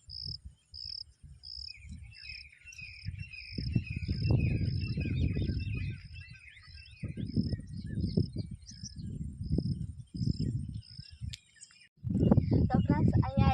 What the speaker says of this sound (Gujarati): મસ્ત બેઠા બેઠા છે ને પક્ષીઓનો અવાજ આવે ને